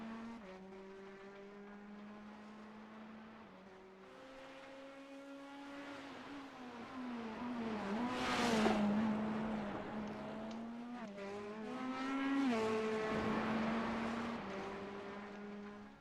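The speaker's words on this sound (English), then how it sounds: "That is the last of the cars passing the line here in just a moment here." Race cars crossing the finish line in iRacing at Oulton: a steady engine drone, with cars roaring past one after another, rising in pitch and loudness as they approach and fading as they go, with no voices.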